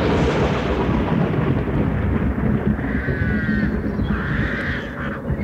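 Thunderstorm effect on a stormy night from a 1985 cassette, a dense rumbling roar of thunder and rain with crow caws calling over it.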